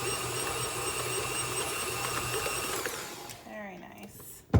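A KitchenAid stand mixer whirs steadily while beating cheesecake batter with sugar, a loud even motor drone that winds down and stops near the end with a brief clunk.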